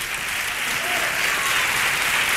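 An audience at a radio anniversary gala applauds to welcome the young Esparraguero band, a dense, even wash of clapping from many hands continuing throughout without pause.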